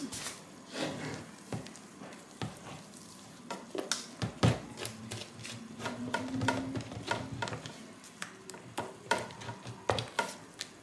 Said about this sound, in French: je vais rajouter et mélanger tout doucement le sucre